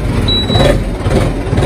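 A Sonalika tractor engine runs with a steady, close, low diesel rumble and a faint high whine over it, with no talking.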